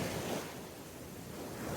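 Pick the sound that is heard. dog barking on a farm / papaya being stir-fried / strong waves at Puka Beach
strong waves at Puka Beach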